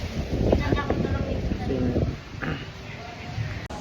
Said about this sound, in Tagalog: Hangin dito sa labas